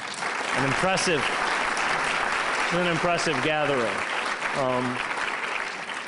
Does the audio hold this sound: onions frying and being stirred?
no